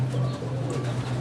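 A Teddy pigeon coos softly and close by in a few low, throaty murmurs over a steady low hum.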